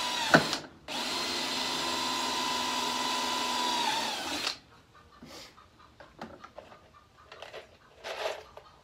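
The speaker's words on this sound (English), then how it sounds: "Drill another hole over here." A power drill bores a hole while barbed wire is set up for a four-wheeler, a loud steady whine lasting several seconds after a brief knock, followed by quieter scattered clunks and handling noises.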